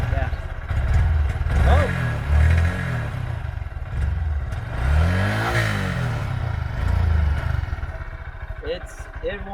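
A Honda Grom motorcycle engine idles roughly and is revved several times, loud and close, with the pitch rising and falling in repeated swells; a voice exclaims briefly over it.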